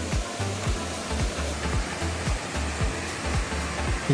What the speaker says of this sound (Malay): Lihatlah suasana air terjun Takar Pengkuin.